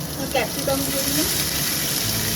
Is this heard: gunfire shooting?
no